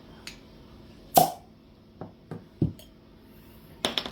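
Beer glasses clink in a toast, a few sharp separate chinks spread over a few seconds, close and fairly loud in an otherwise quiet room.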